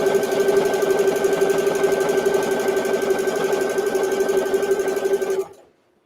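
A sewing machine runs steadily, stitching a microwave potato bag with a fast, even whirring hum close up, then stops abruptly near the end.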